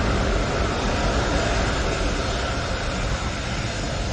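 A Ryanair airliner departing Manchester Airport produces a loud, continuous broadband jet roar that holds steady throughout, heard from nearby with no breaks.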